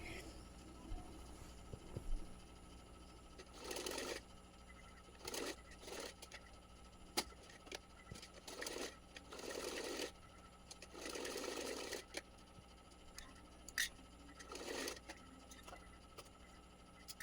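Sewing machine stitching lace onto a fabric edge, several short bursts of rapid mechanical whirring separated by pauses, quiet and close with small clicks between runs.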